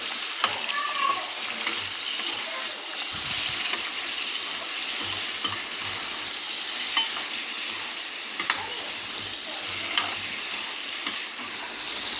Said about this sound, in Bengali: চিকেনটা দিয়ে পরে এবারে ভালোভাবে চিকেনটাকে ভেজে নেব।